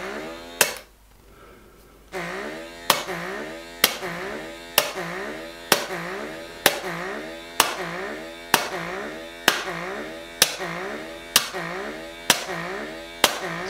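An Oclean W1 oral irrigator's water jet fires in a steady series of about thirteen sharp, evenly spaced bursts, each followed by a short decaying hiss, over a constant electrical hum, with a brief pause near the start.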